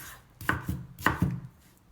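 A knife chopping half an onion on a cutting board, a few distinct sharp chops in slow, uneven rhythm, close and fairly quiet.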